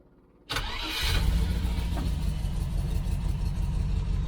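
Range Rover in Lincoln Green cranks and fires for its first start after a rough tune-up, catching quickly and settling into a loud, uneven idle close by, missing on one cylinder.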